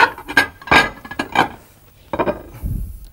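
Heated serving plates being picked up and set down in a kitchen while a navarin of salt-marsh lamb is plated, giving a handful of short clinks and clatters of crockery, close and fairly loud, with no talk.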